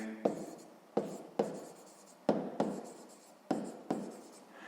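Pen or chalk strokes writing out a math answer, about six distinct scratchy bursts each starting sharply and trailing off, close and fairly quiet with no talk.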